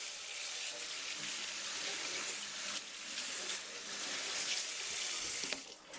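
Hands are washed under a running tap, water streaming steadily into a sink with splashes and shifting gurgles as the hands move through the flow, close and continuous, with no talk.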